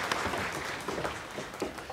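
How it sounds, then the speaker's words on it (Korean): Congregation clapping during a church worship service, a dense, steady patter of many hands filling the space at moderate level, with faint voices mixed in. "영광의 박수를 하나님께 드리겠습니다."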